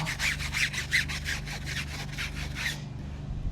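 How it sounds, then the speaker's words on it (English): A brush scrubs a car tire coated with fresh wheel cleaner, close and steady, with rapid back-and-forth strokes that repeat for about three seconds before stopping. "I'll go ahead and apply some fresh wheel cleaner and continue to scrub."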